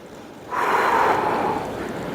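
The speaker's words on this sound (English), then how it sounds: "I'm breathing in and then breathing out." Breathing during a thoracic rotation spine exercise: after a quiet half second, a loud, close breath sweeps in as a rushing airy hiss and slowly tapers, with no talking.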